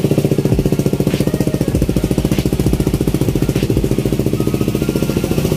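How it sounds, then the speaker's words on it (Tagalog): Suzuki Raider 150 motorcycle engine idling close by after a vacuum-type fuel pump install, a steady rapid loud thump with no speech over it. "napakaganda ng idle ni Yuri ngayon"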